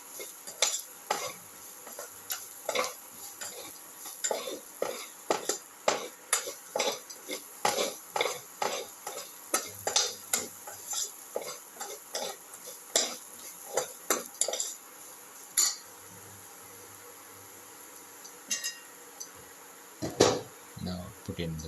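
Eggplant mixture being sautéed in a pan for a ginger eggplant potato casserole, with a utensil scraping and tapping in quick irregular strokes over a soft sizzle, then a pause before a few final stirs.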